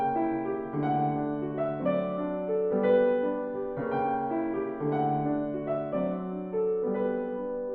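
Solo piano playing from Schumann's Scenes from Childhood, soft and gentle overall with the melody carried above a quieter flowing accompaniment, heard alone in a steady lyrical phrase.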